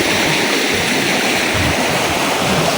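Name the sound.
floodwater rushing in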